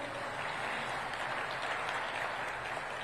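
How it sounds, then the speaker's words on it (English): An audience at an African food systems summit applauds its panelists, a dense, even wash of clapping from a large crowd, moderately distant and steady without talk. "let's give a round of applause to our panelists"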